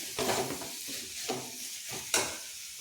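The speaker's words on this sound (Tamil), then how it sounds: "துருவி வச்சுருக்க தேங்காயை சேர்த்துக்குவோம். கொஞ்சம் நேரம் வதக்கி விட்டுக்குவோம்." Grated coconut and carrots sautéed in a pan, with three distinct stirring scrapes about a second apart over a gentle, continuous sizzle, close up with no talking.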